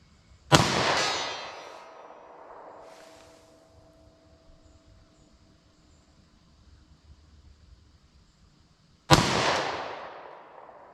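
Two sharp, loud gunshots from a short-barrel Taurus G2C pistol in .22 Magnum fired at 75 yards, spaced well apart, each with a ringing decay, quiet outdoor background between.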